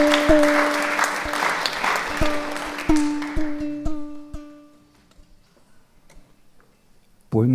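Audience applause at a live Occitan cultural show in Tarbes, a dense clapping wash over a sustained tone for about four seconds that thins to scattered claps and near silence, then a sudden loud burst at the very end.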